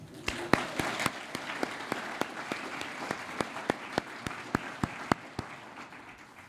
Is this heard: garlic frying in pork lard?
no